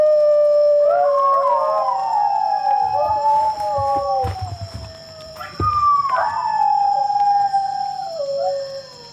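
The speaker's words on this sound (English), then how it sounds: "Using a tape recording of captive singing dogs, Mike tries to elicit a response call." Recorded howling of captive singing dogs plays loud and close, with long wavering, sliding cries rising and falling in pitch across two main howls, the second starting higher and gliding down, over low rumbling background noise.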